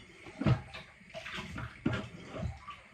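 Salted food is washed in water inside a bottle, giving a few close, irregular sloshing and splashing bursts with short pauses between them.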